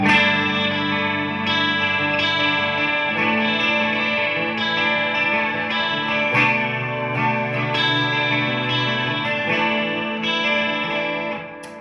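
Gibson Les Paul Slash Collection electric guitar playing a flowing rock phrase, wrapped in delay, reverb and chorus, sustained notes ringing out with a shimmering echo tail.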